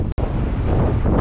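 Loud, blustery wind roars across the microphone continuously on a high bridge, with one brief dropout near the start.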